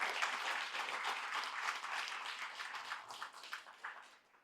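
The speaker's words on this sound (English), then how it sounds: "Please give them a round of applause." A dinner audience applauds the caterers with steady, dense clapping from many hands that fades slightly toward the end.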